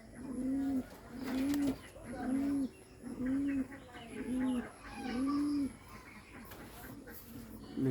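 Bombay pigeons coo in a rhythmic run of low, throaty calls repeating about once a second, close by, with soft background noise and a pause near the end.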